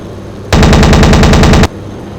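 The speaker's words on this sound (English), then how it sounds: "Cannon." Aircraft cannon fire in a WWII Luftwaffe air-raid video game: a single loud, rapid burst of about a dozen evenly spaced shots lasting just over a second, with quiet before and after.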